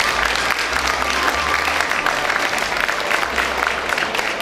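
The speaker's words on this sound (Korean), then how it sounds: "우리 다 같이 우리 자신을 위해서 크게 박수 한번 하시겠습니다." Large audience applauding at a 2013 national character-education event held at the aT Center in Seoul, a dense, loud, steady wash of clapping lasting throughout with a faint background hum.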